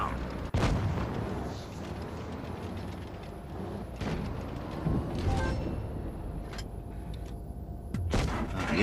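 Tank cannon fire in the World of Tanks video game: a few heavy booming shots, roughly three, ring out over a constant rumbling battle bed, with sharp blasts near the start, middle and end.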